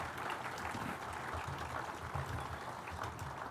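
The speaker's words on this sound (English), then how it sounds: "give yourself a round of applause for that" Audience applause at a political rally in Saskatchewan, a steady dense clapping wash held at an even level for the whole stretch, with faint crowd murmur underneath.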